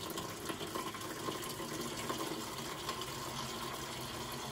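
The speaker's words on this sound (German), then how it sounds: "Jetzt läuft das ganze Wasser," Water runs out of the tank of a KLIX drinks machine into a bucket, a faint but continuous gushing trickle with no voices over it.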